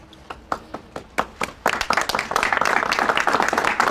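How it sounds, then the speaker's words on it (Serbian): Applause at a Belgrade opposition political gathering, starting as scattered separate claps that quickly swell into dense, sustained clapping from a large crowd, fairly close and without voices. "Ovo je, ovo je aplauz, ovo je aplauz i za Beograđane"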